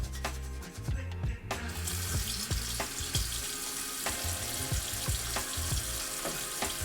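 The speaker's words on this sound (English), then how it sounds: "the water is running into the sink" Tap water runs steadily into a sink while a makeup brush is rinsed, a continuous close splashing hiss punctuated by irregular clicks and knocks of handling.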